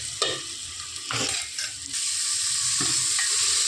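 Tomatoes tipped into onions, garlic and curry leaves frying in a pan, a loud continuous sizzle broken by a few bursts of stirring and spattering.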